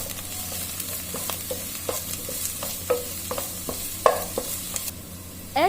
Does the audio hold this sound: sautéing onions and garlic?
yes